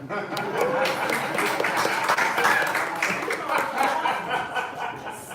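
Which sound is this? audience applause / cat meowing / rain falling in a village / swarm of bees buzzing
audience applause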